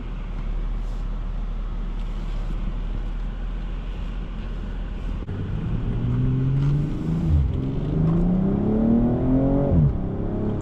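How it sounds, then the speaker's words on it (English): A BMW M240i xDrive accelerates hard, its engine note rising in pitch through the revs before abrupt harsh gear shifts cut in and it climbs again, heard from inside the cabin over steady road noise. "Man, very harsh gear shifts, awesome."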